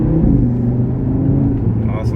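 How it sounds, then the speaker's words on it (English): A 2018 Audi RS3 sedan engine drones and pulls steadily from inside the cabin, a low rumble rising gently under light acceleration. "First, it's a little bit of acceleration."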